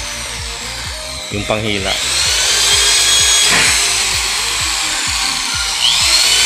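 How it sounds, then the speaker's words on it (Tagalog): A power drill bores a lock passage through a swing door, whining steadily at close range with rhythmic grinding pulses, while someone speaks briefly over it. "dinidrill na po ng kasama natin yung passage ng ano, laksit natin para po sa susian niya"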